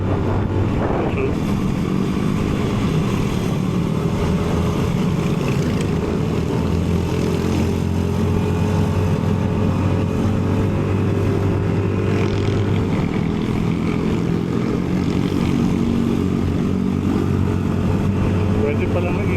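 Motorcycle engine on a mountain breakfast ride along Marilaque, a steady loud drone with low harmonic tones running throughout, with wind noise and people talking over it.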